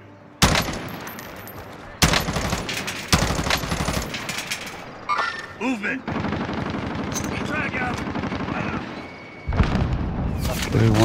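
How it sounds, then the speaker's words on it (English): Enemy gunfire in MiniRoyale: loud, close bursts of rapid shots come in several sharp volleys with brief pauses between them, while a player talks throughout. "Oh, the other guy's shooting at me."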